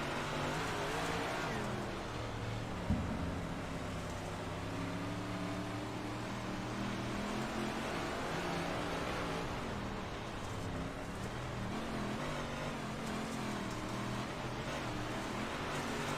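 A dirt late model race car, the number 15 car, heard onboard at Cedar Lake Speedway during a big block event, a loud sustained engine drone whose pitch rises and falls through the laps.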